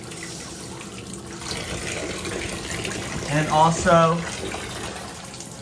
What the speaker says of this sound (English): Keep putting hot water on the spots that hurt usually the most for you